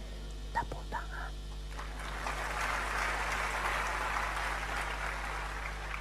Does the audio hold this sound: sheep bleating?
no